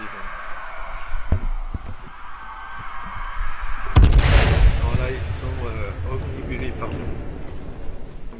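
A grenade detonates in the zombie survival game H1Z1: a single loud, deep blast midway with a rumbling tail, while someone talks before and after it.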